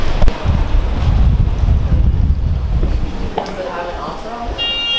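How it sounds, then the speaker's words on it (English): Wind blowing outdoors near water, rumbling in gusts against the microphone, loud and close, with boat and wave sounds mixed in. "It's a bit blowy."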